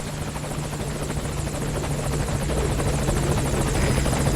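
Helicopter hovering over a landing zone in the video game Metal Gear Solid V: Ground Zeroes, a steady close rotor thump and engine drone that holds constant and grows slightly louder toward the end.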